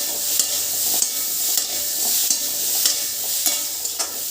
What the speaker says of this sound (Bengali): তারপরে হলুদ দিয়ে আরও 2-3 মিনিট আমি ভেজে নেব।